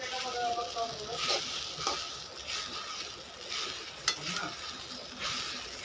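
Sabudana khichdi being stirred in a pan, a soft scraping and gentle sizzle running steadily with a few sharper scrapes, close by and fairly quiet.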